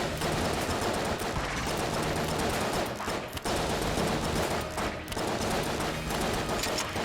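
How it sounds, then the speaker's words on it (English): Rapid gunfire in the video game Enter the Gungeon: a relentless, loud, close stream of shots with only a couple of momentary breaks over several seconds. "You can fire these guns pretty fast"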